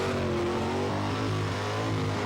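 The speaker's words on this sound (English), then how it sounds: "It is frying those tyres." Burnout at a Summernats 2009 elimination: a car's engine roars at sustained high revs with tyres spinning, a loud, steady, dense blare with little variation.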